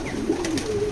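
Pigeons coo softly in a rooftop flying loft, a low throaty murmur rising and falling over about a second, close by with faint background hum.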